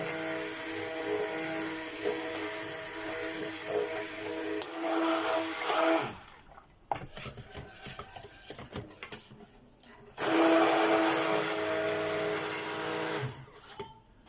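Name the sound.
blender blending turmeric soap ingredients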